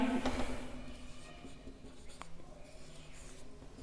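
Marker or chalk scratching on a board while a maths problem is worked out, a quiet, uneven series of short strokes and taps, faint and close, with no talk.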